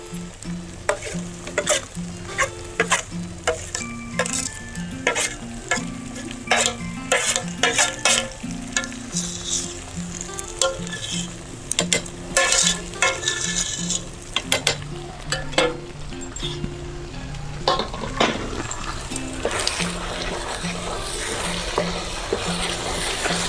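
Onions fry with ginger, garlic and green chili in a pan, a constant sizzle broken by repeated sharp stirring scrapes and spoon clatter over about twenty seconds.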